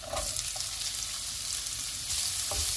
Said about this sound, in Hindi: और प्याज को हम 2 मिनट तक फ्राई करेंगे